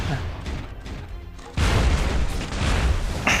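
Shooting and explosions from the PS2 game Transformers The Game, played on a phone in a Bumblebee versus Barricade fight, with heavy booms and blasts under a rumbling, crashing battle din.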